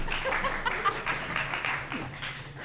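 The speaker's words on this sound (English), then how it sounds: "Go ahead and clap." An audience at a community workforce housing workshop clapping to welcome a facilitator, a short, modest burst of scattered applause mixed with a few chuckles, heard at a distance in a meeting room.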